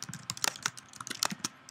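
Fingers type on a computer keyboard in quick, uneven bursts of crisp, close keystrokes, with no talking.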